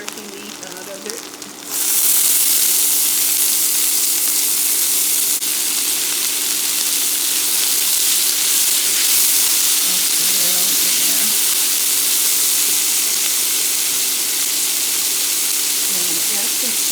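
Washed asparagus hits a hot pan that held turkey meat, bursting into a loud, steady sizzle and hiss that starts abruptly after a brief quieter moment and continues close and constant to the end.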